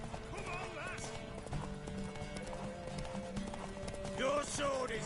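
Hooves clip-clop at a run and a horse neighs and whinnies near the end in Witcher 3, with game character voices talking over the hoofbeats.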